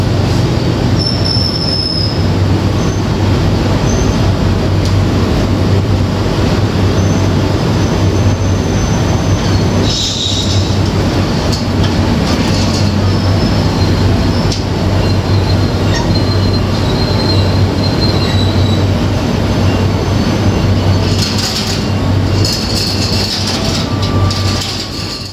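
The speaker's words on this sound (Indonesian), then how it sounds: "Masuk di jalur 6 kereta api Bengawan dari Purwosari ke Jakarta Barat Senen ya." Bengawan passenger train running from Purwosari to Jakarta Pasar Senen pulls in on track 6, its wheels squealing loudly and steadily against the rails over a constant deep rumble, with brief higher screeches partway through.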